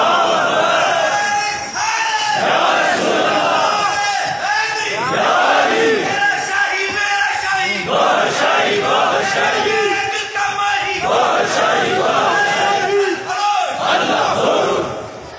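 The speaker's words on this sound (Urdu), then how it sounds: "اب نعرے بھی لگ گئے نا" A large crowd at a monthly devotional gathering with naat recitation and dhikr chants religious slogans in unison. Loud, rhythmic shouted bursts repeat steadily throughout.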